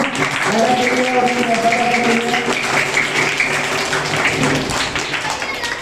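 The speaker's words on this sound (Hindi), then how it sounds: "बहुत सा तालियां बजाएं" Applause from an audience at an Independence Day celebration in Hyderabad, sustained clapping through the whole stretch with a voice speaking over it in the first half.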